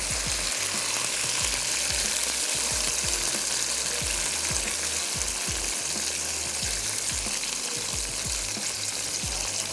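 Boiled mutton is added to onions frying in a pan with stock, giving a loud, constant sizzle with crackling and repeated stirring scrapes. It sounds close, with no talking over it.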